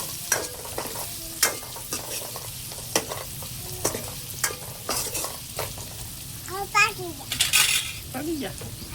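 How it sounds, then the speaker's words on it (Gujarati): Cooked kantola (spiny gourd) fries with added turmeric in a pan for sev kantola, a spatula repeatedly knocking and scraping the metal in close, uneven strokes over a low sizzle, with a brief squeak near the end. "હળદરમાં પકાવવા દઈએ"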